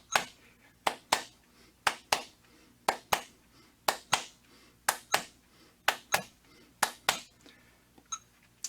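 Crisp, computer-made hand claps in a steady, even pattern subdividing the beat: about sixteen sharp, close, dry hits with a brief gap near the end, and no talking.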